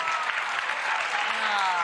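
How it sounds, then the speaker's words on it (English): A studio audience at a TV talk show claps steadily and loudly, a dense, even roar of many hands throughout with no pause and no voices on top. "My wife over here clapping, man."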